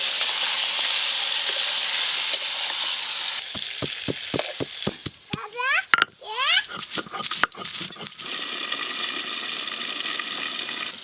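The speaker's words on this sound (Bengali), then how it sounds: "এইদিকে পটলটা ভাজা হতে থাক।" Pointed gourd (potol) frying in oil in a pan, a steady close sizzle with a burst of sharp clattering stirring strokes in the middle before the even hiss returns.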